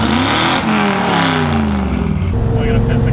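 Ford F100 truck with a three-on-the-tree column-shift manual transmission driving, its engine loud and close, revving and climbing through rising pitch sweeps as it accelerates, with the engine drone continuous throughout.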